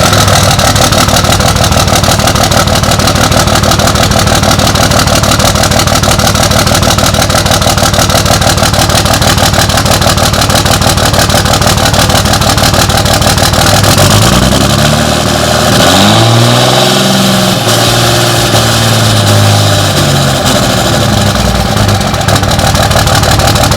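A 2005 Cummins diesel truck engine with a newly installed exhaust cold-starts and runs, a loud steady rumbling idle throughout with a deeper surge of revving in the last third, close and continuous, no talk.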